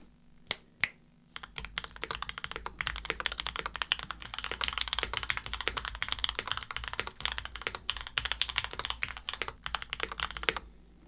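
Fast, continuous typing on a Mode Encore mechanical keyboard, crisp close clacks in a dense even stream after a few isolated key taps at the start, with no talking.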